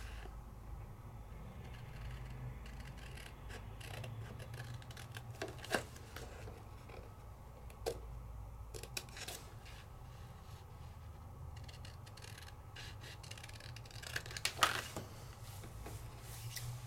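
Scissors cutting paper shapes out of a stamped sheet, a run of soft snips and paper rustles with a few sharper clicks, close and quiet without voices.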